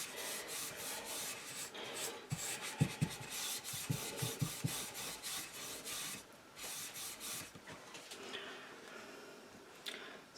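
Paint brushed onto an ornate gilded picture frame, worked into its nooks: steady close scrubbing and rubbing strokes of bristles, in uneven bursts with brief pauses, no talk.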